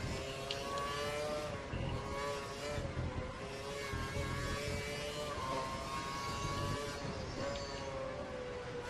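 Formula 1 car engine from the F1 2012 racing game at the Indian Grand Prix, a steady high-pitched whine holding near pitch with slight rises and dips, loud and continuous without talk.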